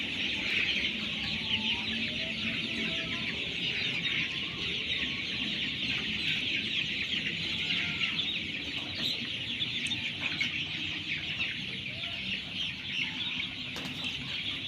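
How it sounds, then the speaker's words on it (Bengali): Colour bird breed chickens, about 21 days old, move about and cluck continuously in a poultry shed, with busy overlapping clucks and chirps and steady background noise, and no talking. "মুরগিগুলো অনেক দৌড়াদৌড়ি করছে"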